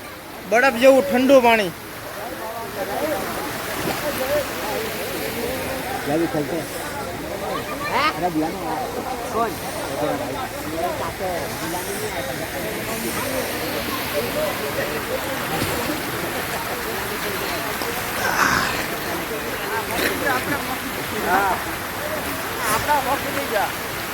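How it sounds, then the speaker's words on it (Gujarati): Mountain water rushing down in a steady broadband wash along the Girnar parikrama route, continuous and fairly close, with people talking and a crowd murmuring over it. "તમે જોઈ શકો છો પહાડમાંથી પાણી આવે છે"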